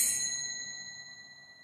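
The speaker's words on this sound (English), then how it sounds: "this is like a kartal. Kartal, it means it has a sound." Kartal hand cymbals are struck once, a bright metallic ding ringing out close by and slowly fading away.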